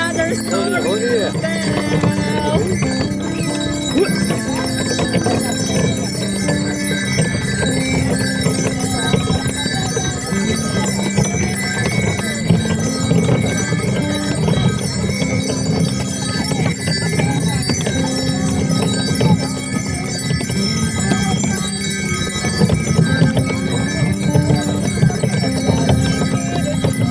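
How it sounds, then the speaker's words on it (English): Horses being ridden on a snowy winter day near Cantacuzino Castle, with steady hoof clops and a faint whinny in a busy outdoor mix, people talking throughout. "We're here in horse riding."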